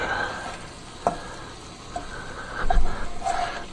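Food fries in an inexpensive cast iron skillet during a stir fry, a soft steady sizzle broken by a few sharp clinks and scrapes of turning the pieces, close and without speech.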